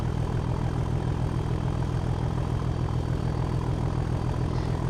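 A Class 37 diesel locomotive works at maximum throttle on a railtour in West Cornwall. It gives a loud, steady engine roar and deep rumble that holds unbroken from start to end, with no voices.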